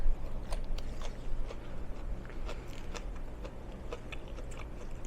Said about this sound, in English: Crunchy asparagus is good, especially in the air fryer.